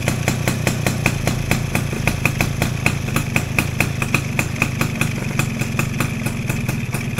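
A small two-stroke motorcycle engine, just retuned with lowered timing, runs close up with a rapid, even putter, holding a steady idle throughout without speech.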